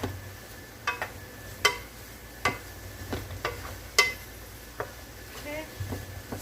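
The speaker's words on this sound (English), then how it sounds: "Let me stir this real quick." Salisbury steak with mushrooms and red onions stirred in a pan: a series of light utensil clinks and scrapes against the pan, close and moderately quiet, over a low steady sizzle.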